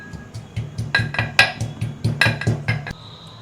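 Six or seven garlic cloves and two hot green chilies pounded into a paste in a metal mortar, a steady series of about a dozen sharp clinking metallic strikes at a regular rhythm, close and clear.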